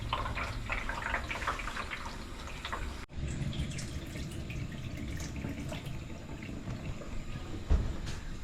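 Water running into a hot water cylinder in a house plumbing system, a steady close rushing and trickling flow with a brief break partway through and no voices.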